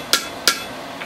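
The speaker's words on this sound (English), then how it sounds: "I'm going to flatten that out just a shade, not much." Two crisp, ringing hammer blows on an anvil while flattening a forged adze, close and loud, about a third of a second apart, with a faint third tap at the end.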